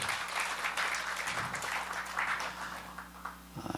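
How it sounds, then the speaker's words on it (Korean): A church congregation applauding together in a worship hall, a broad, steady round of clapping over a low background hum, tapering slightly with a few scattered claps at the end. "다시 한번 우리 큰 감사와 영광의 박수 올려드리겠습니다."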